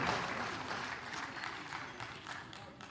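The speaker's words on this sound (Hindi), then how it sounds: "जोरदार ताली" Audience applause at a public felicitation ceremony in Rewa honouring Emergency-era MISA detainees, a steady wash of many hands clapping at moderate distance that slowly fades over a few seconds.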